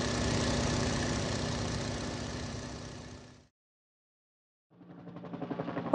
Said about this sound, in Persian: هواپیمای دوباله.